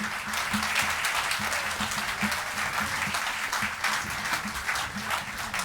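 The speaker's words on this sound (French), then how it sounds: "Casser l'harmonie sous la direction de Seb, on les applaudit." Steady applause from a concert audience for a wind band, dense clapping sustained throughout at an even level, with a faint murmur of voices underneath.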